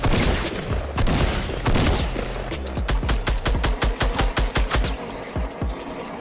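Rapid rifle gunfire in the Fortnite battle royale video game, a dense burst of loud repeated shots followed by a quicker rattling string of individual rounds, close and continuous with no talk over it.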